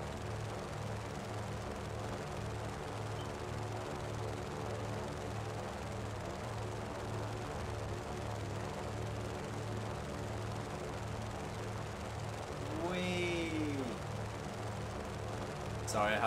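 Airplane flying in the video game Just Cause 3, a low, steady, pulsing propeller drone held throughout at moderate level.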